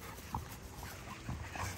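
Puppies whimper in soft, brief yips and whines scattered across a short moment, faint against a constant hissing background.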